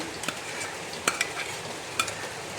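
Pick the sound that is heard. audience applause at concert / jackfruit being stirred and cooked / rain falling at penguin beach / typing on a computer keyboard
jackfruit being stirred and cooked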